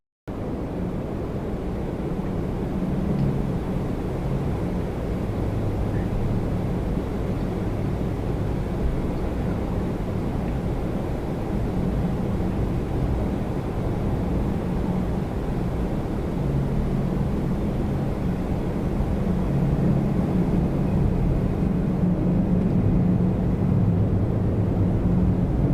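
A British Airways Boeing 787-10 Dreamliner bound for London Heathrow rumbles loud and steady at Toronto Pearson, a low, broad roar that swells slightly toward the end and is heard without voices.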